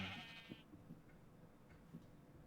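A single short, faint bleat from a sheep in Minecraft at the start, followed by quiet ticking and soft clicks in an otherwise hushed background.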